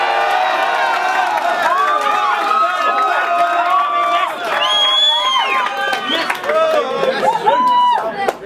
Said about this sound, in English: Then applaud this.